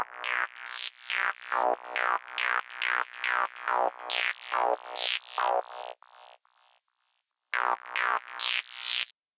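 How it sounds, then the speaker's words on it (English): An acid bass line on a Novation Peak synthesizer, a rapid run of about fourteen squelchy, resonant notes with rising filter sweeps, a brief pause, then a few more notes, played alone and fairly loud. "Novation Peak I used for the acid bass during the bridge."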